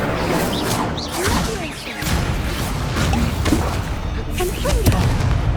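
Casting the Incendio fire spell in Hogwarts Legacy produces loud, repeated bursts, whooshes and booming impacts over a dense battle soundscape, with voices shouting during the fight.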